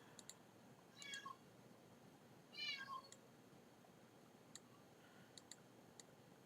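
A pet cat meows twice in short, drawn-out calls, faint against a quiet room with a few sharp ticks and clicks scattered around, no one speaking.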